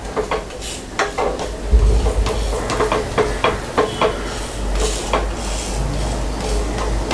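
Foxtail millet dosa sizzling in a little oil on a pan, with a soft steady fry under repeated close scraping and clinking of a metal spatula against the pan, plus an occasional louder knock.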